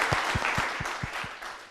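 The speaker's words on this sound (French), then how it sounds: "Merci beaucoup, on l'applaudit très très fort." An audience at a youth event at a town hall in Koumassi applauds, with a burst of clapping and steady rhythmic beats standing out, close and moderately loud for a brief moment.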